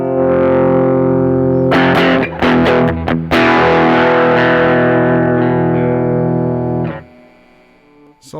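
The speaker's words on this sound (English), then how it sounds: "And so this is the overdrive." An electric guitar rings out loud through the Brothers AM pedal set to its overdrive clipper, with several struck chords and a long sustained, harmonically rich tone that cuts off abruptly near the end.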